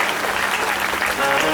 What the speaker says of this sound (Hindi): एक बार अपने अपने पतियों के लिए जोरदार ताली बजाइए